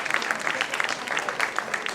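Steady audience applause continues throughout a brief moment of a felicitation ceremony at a Bapat family gathering, a moderate, even patter of many hands.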